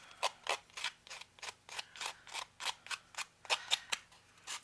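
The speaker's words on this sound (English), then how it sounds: "file around the edges here just to get rid of any of that paper" Paper edges of a hardcover journal being filed by hand, a steady series of about fifteen short rasping strokes in an even back-and-forth rhythm, close and fairly quiet.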